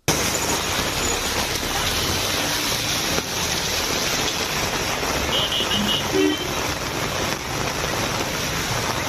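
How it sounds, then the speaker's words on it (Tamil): Heavy rain pours down steadily in Tiruttani, Tamil Nadu, a dense, constant hiss of water lashing the ground and road, loud and unbroken throughout with faint sounds of traffic beneath. "கனமழை கொட்டி தீர்த்ததால் சாலையில் தண்ணீர் தேங்கியது"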